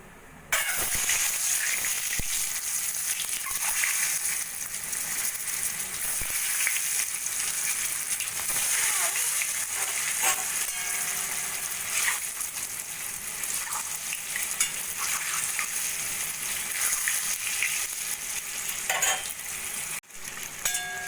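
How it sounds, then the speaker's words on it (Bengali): Eggs frying in hot oil with turmeric and Kashmiri chilli powder, a continuous bright crackling sizzle with intermittent spatter pops and stirring clinks throughout, no voices. "ডিমগুলো আমি সোনালি করে ভেজে নিয়েছি"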